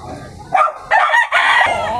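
Gamefowl rooster, a prized fighting cock, crowing close and loud in one short cock-a-doodle-doo of several rising and falling bursts, alone without talk.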